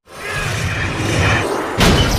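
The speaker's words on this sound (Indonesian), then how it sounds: "Robot pun tumbang dan meledak." Giant robot toppling and exploding in the animated film The Incredibles (2004): a loud, sustained crashing rumble of debris, followed by a second heavy blast of impact near the end, with no talking.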